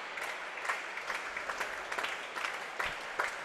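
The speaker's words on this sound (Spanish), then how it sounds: "Aplaude el sit, 6-3." Steady applause and crowd noise at an indoor volleyball match, fairly distant and even throughout, with occasional sharper claps standing out.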